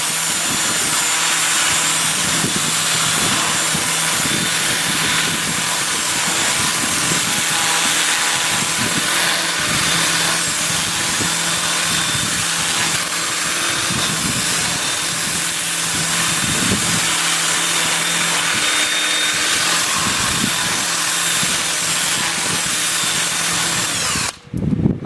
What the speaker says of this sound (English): I'll switch to my 2-inch disc starting at 120 grit and working up through 400. I'll have the lathe spinning in reverse